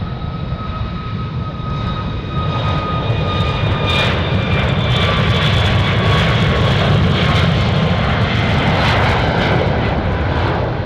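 Jet airliner taking off at Anchorage airport, a loud, sustained engine roar with a steady whine layered on top, building slightly and holding for about eleven seconds.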